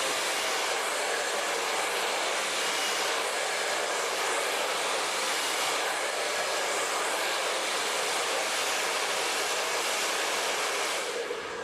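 Steady, loud whooshing roar of a blow dryer drying curly hair, running continuously without a break and cutting off at the very end.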